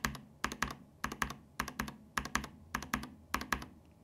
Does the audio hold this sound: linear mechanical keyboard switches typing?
yes